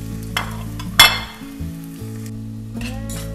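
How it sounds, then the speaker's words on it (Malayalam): Onions sizzle in hot coconut oil in a pressure cooker while being stirred, with a sharp metallic clink near the start and a few scraping bursts over background music. "അതിൽ തന്നെ നമുക്ക് സവാള ഇട്ട് കൊടുക്കാം"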